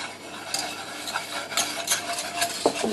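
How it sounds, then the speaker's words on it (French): A whisk stirs sunflower oil and flour together for a béchamel roux, giving a steady scraping swish with light taps against the pan, close and alone. "et avec votre fouet, mélangez"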